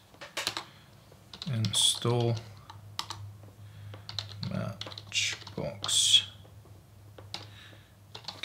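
Clicky bursts of typing on a computer keyboard as a terminal command is entered on a Raspberry Pi setup, with soft spoken words between short runs of keystrokes.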